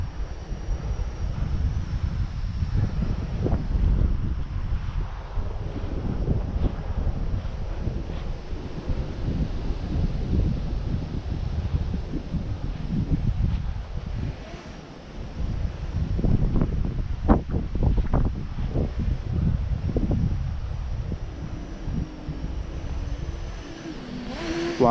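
Gusty wind buffets the microphone outdoors during an MJX Bugs 3 Mini RC drone flight, a continuous low roar that swells and dips, with no one talking.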